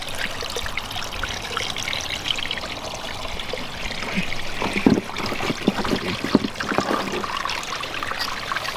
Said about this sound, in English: we actually get some water coming over there